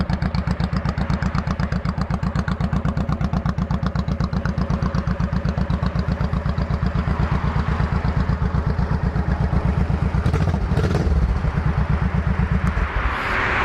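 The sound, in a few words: 2006 Honda Shadow motorcycle idling with Cobra exhausts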